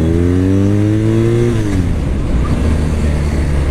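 A 2022 BMW R nineT Pure motorcycle engine revs loud and close, a rising throaty tone that drops off around midway into a rough, sustained rumble.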